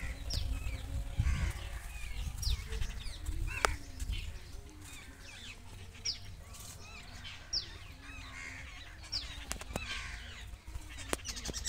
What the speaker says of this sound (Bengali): পাখিদের অনর্বর কিচিরমিচিরটি আপনাদের জন্য জোরালো রাখছি।